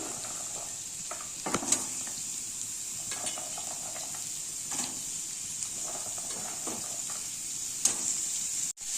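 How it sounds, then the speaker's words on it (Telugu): Onions, chillies, mustard seeds, cumin and curry leaves fry in a pan with a constant bright sizzle and hiss, broken by occasional stirring scrapes and light taps of a spoon, close up with no talking. "ఇందులో ఆనియన్స్, చిల్లీస్, ఆవాలు, జీలకర్ర అలాగే కరివేపాకు వేసుకొని బాగా ఫ్రై చేసుకోవాలి"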